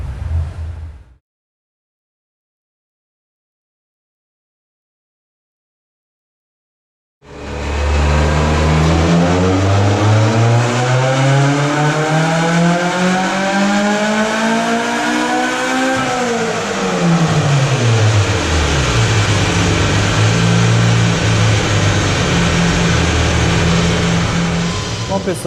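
A Ford Fiesta 2.0 16V engine on a dyno roars loudly after a brief silence, climbing steadily in pitch through a long pull, then dropping back and holding a high rev.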